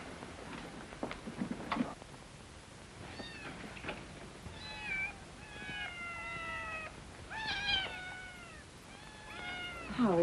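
A cat meowing in a quiet room, several separate drawn-out meows rising and falling, some close and fairly clear, with soft rustles and light knocks between them.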